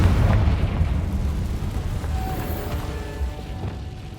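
A Confringo fire spell blasts in the Hogwarts Legacy video game, a loud, dense burst with deep rumbling low end that stays strong and slowly tails off over a few seconds.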